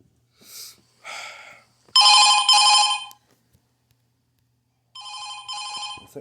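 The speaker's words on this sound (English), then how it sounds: "Is there any way to mute the phone call?" Telephone ringing in Five Nights at Freddy's 2 Reimagined: two short rings, then two long loud bright trills, a pause, and another long ring near the end. No one talks.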